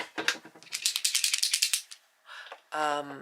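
A small ball rattles rapidly inside a shaken Posca paint pen, a quick burst of clicking, followed by a short bit of speech.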